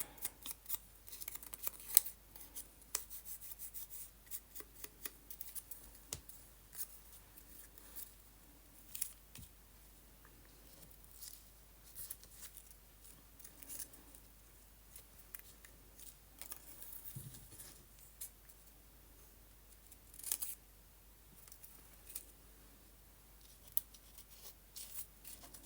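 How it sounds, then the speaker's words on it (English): Scissors snip the corners off paper journal tabs, a long series of small, sharp, irregularly spaced cuts, close and quiet with no talk. "I want to cut the corners."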